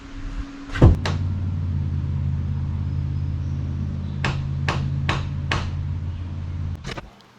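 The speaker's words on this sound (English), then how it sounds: "Each batten gets 1 6-penny galvanized nail at the center at each girt between the boards." Six-penny galvanized nails go into wooden battens on a sawmill build with one sharp hammer strike early on, then a quick series of four taps and a final knock over a steady low machine hum.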